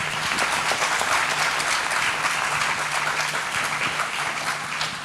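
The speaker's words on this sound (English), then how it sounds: "Round of applause for them, please." Steady applause from an audience at a gaming event panel, a dense wash of clapping that holds evenly for about five seconds in an indoor hall.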